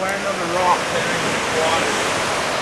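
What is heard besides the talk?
rushing water pouring down near a river at Whistler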